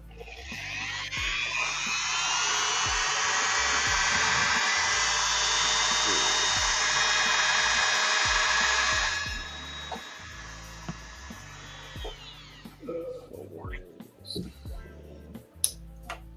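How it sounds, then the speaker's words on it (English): A rotary tool with a cutting wheel grinds on an action figure in a steady, loud, high-pitched whine for several seconds, then spins down, followed by faint handling clatter. "Just gotta go back to the cutting wheel."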